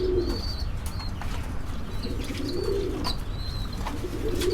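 Pigeons at a fancy pigeon farm in Tangail, coo in low, rolling calls one after another over a steady background hum, with a few higher chirps and faint wing flutters mixed in.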